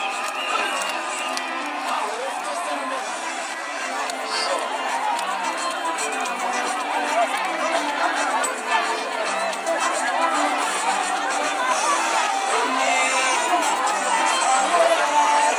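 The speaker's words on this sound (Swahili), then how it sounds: "Umpigie makofi na uweke mziki kabisa." A large crowd at an outdoor Kenya Kwanza political rally in Nyaribari Chache, Kenya, cheers and whoops in a steady, dense roar that holds loud and continuous throughout, with shouts rising from the mass of voices.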